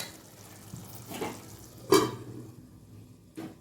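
Tomatoes cook in a pan for an aloo tomato methi curry, giving a soft, low sizzle broken by a few scraping stirs of a spoon, with one sharper clink partway through.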